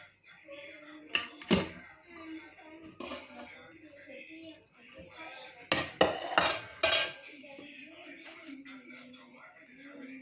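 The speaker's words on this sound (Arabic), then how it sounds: "غنقلب الكسكاس هكذا اخواتي في صحن التقديم" A couscous steamer pot being turned over onto a serving plate: a few sharp metallic clanks and knocks in bursts, with quieter rustling and handling between them and a faint voice in the background.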